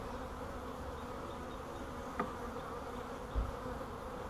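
Honey bees from a caught swarm hum as a constant, even drone around their caged queen, with a couple of faint knocks and no voices.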